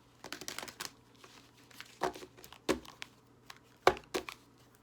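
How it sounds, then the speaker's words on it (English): Tarot cards shuffled by hand in a series of quick papery riffles and crisp snaps, close and fairly quiet, with brief gaps between bursts. "Sometimes I want to shuffle again."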